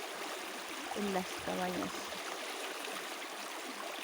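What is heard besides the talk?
water flowing in a canal by a lake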